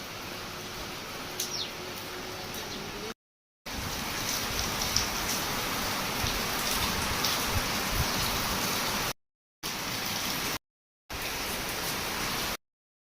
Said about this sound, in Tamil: அப்படியே வெளியே மழை பெய்யுது.